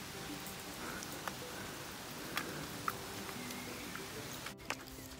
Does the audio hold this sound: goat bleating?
no